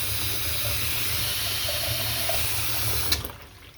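Water rushes steadily as it drains from a newly installed kitchen sink, then cuts off abruptly with a small clunk, leaving near silence.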